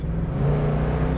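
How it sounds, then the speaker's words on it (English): A 1970 Chevrolet Chevelle big block's exhaust gives a loud, close, deep rumble, swelling briefly as the engine revs. "Now, let's listen to this exhaust."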